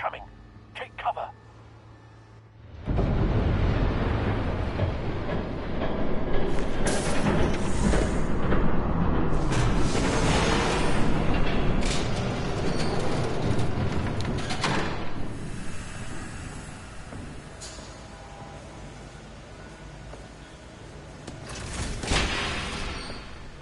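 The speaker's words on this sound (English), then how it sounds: "There's a train coming." A train thunders past in a Batman video game, a loud, sustained rumble that rises suddenly after a quiet start and holds for many seconds, with metallic clanks and bursts, mixed with game dialogue.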